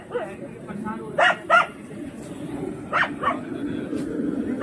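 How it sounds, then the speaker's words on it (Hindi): A dog barks several times at a wedding mehndi night, giving short yipping bursts in pairs at a moderate distance over a steady background murmur. "ये कुत्ता यहाँ पे वफादार है"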